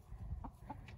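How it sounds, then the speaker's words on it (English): Chickens clucking softly nearby, a few brief low clucks within a second, faint against a quiet rumbling background. "Beautiful chickens. I love my chickens."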